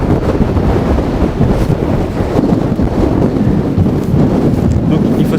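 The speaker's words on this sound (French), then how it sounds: "le vent fort a repris." Strong wind buffets a microphone outdoors in a new residential district in Russia, a loud, continuous low roaring rumble with gusty surges filling the whole stretch.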